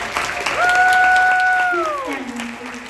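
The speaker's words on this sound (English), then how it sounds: "Let's give them a big round of applause." An audience at a convention in St George, Utah applauds and cheers loudly and continuously at close range, with a sustained whistle-like tone rising above the clapping.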